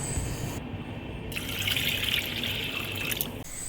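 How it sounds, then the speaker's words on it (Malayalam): Water poured into a pressure cooker holding washed lentils for Andhra rasam, a steady splashing pour running throughout at moderate level with a brief quieter gap near the start. "ഇനി നമുക്ക് ഇതിലേക്ക് ആവശ്യത്തിനുള്ള വെള്ളം ഒഴിച്ച് കൊടുക്കാം."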